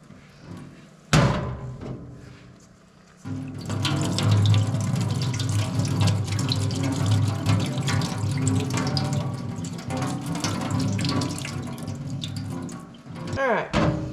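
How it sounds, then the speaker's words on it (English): Soaking water from microgreen seeds pours out into a sink after a sharp knock, a steady splashing rush that runs for several seconds and then ends with another clunk, with a voice briefly heard. "Let's drain that water."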